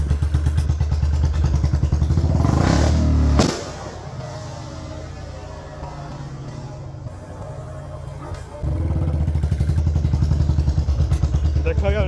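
Firecracker-style backfires from a Royal Enfield Bullet 350 motorcycle exhaust, loud and close over a steady engine rumble, with a sharp burst near the start and the engine dropping then picking up again; voices talk over it.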